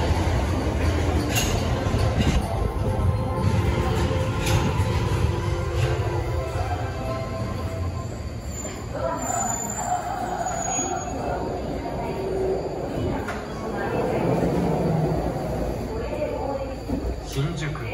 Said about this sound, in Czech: No takže jelo za minutu a půl to metro.